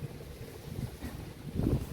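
Gusty wind rushing against the microphone on a stormy evening just before rain, a steady low rumble that swells into a stronger gust near the end, with no voices.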